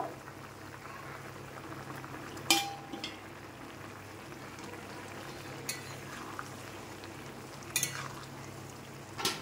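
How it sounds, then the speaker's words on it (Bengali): Fish dropped into a pot of boiling water on a home kitchen stove: a steady bubbling simmer runs throughout, broken by a few sharp splashes and clinks near and moderately loud. "তোমার জলটা ফুটে গেছে, এবার আমি দিয়ে দেবো এই মাছগুলো"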